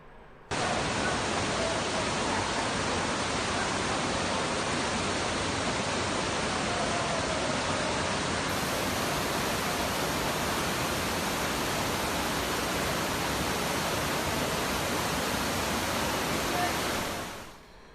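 Water gushing out of the ground in a flooded New York City subway, a loud unbroken broadband roar that holds steady and then cuts off at the end.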